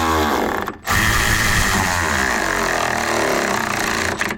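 Cordless power tool driving down mirror bolts on a Silverado truck, a close, loud whirring drone that cuts out briefly and resumes steadily for several seconds before stopping.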